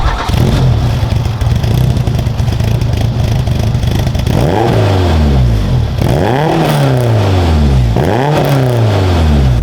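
A prepared Peugeot 205 GTI idles with a rough rumble, then revs hard three times in rising, falling sweeps, loud and close as the car pulls away.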